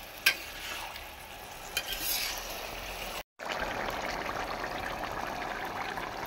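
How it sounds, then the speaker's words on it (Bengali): Chicken pieces for Bengali chicken posto hiss and crackle loudly in a pan as they are stirred, a brief scrape at the start and a short dropout midway before the steady frying resumes. "এখন আমি এই মাংসটা খুব সুন্দর মতন কষে নেব।"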